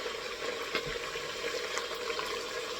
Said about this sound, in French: Déjà, je vais aller mettre les oignons découpés.